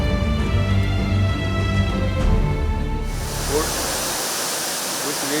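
Water rushes loudly through the Tungabhadra Dam, a broad, steady roar of spilling water that becomes dominant about midway after a tonal, humming passage.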